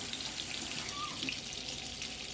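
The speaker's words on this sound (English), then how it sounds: "I'm sorry if y'all heard that water running" Tap water runs steadily into a kitchen sink, a continuous broadband hiss without breaks, fairly close and moderately loud, with no speech over it.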